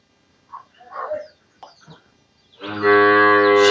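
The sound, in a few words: cattle mooing, bull calf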